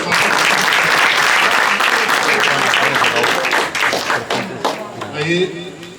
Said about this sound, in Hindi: एक ताली इसके लिए भी बताओ।